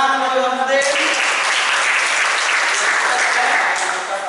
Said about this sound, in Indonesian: Tepuk tangan bagi Bang Fatin.